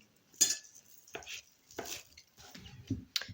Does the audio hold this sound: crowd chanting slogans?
no